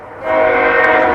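A loud, close train horn blares in a sustained, steady chord as the train passes, swelling quickly and holding at full strength.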